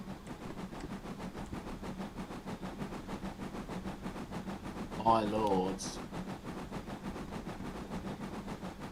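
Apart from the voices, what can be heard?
heritage train running on Mid Norfolk Railway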